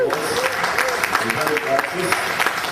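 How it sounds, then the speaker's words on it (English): Studio audience at a morning show applauding a performer, a steady patter of hand claps that runs the whole time with voices talking over it. "Give him a nice round of applause."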